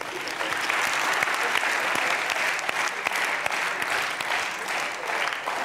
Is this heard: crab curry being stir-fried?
no